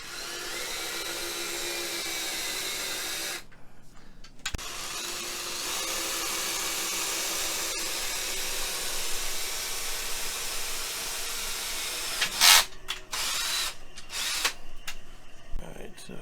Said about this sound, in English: And we're going to be drilling a hole. We're using a 1/4 inch drill bit for this.